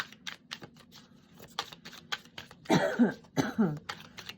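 A couple of throaty coughs near the end, close up, after a stretch of light clicking that sounds like typing.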